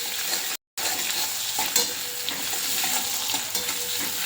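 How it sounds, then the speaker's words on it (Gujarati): Vagharelo rotlo, Kathiyawadi dhaba-style crumbled millet flatbread, being stirred and shallow-fried in a pan until golden: a steady close sizzle with scraping stir strokes and a brief dropout near the start. "થોડું હલાવીને આપણે થોડી ગોલ્ડન શેકવાની છે"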